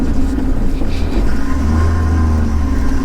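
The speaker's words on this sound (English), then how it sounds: "This vehicle performs so well in low range." Off-road vehicle engine labouring steadily in first gear, low range, while climbing a very narrow, steep mountain pass at Die Hel, Gamkaskloof; a constant loud low rumble fills the recording with no talk.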